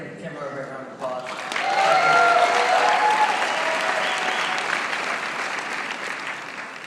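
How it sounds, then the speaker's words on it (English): An audience breaks into a round of applause for Tim, a brief voice giving way to loud, dense clapping that holds steady for several seconds. "So again, give Tim a great round of applause."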